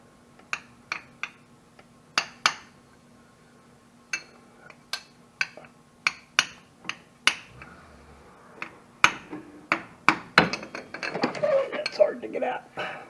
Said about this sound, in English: I got a piece of old exhaust pipe I'm going to tap it in with, hopefully.